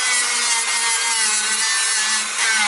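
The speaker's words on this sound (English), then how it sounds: "with this sanding paper I sand these areas carefully in that way" Steady, continuous abrasive rubbing as sandpaper is worked against the steel surface of a car brake disc, loud and close, with no pauses and no talk.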